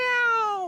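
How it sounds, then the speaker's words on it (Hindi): A cat gives a single clear, close meow, loud and drawn out, falling slightly in pitch as it fades, with no talking over it. "ओह, बिल्ली है।"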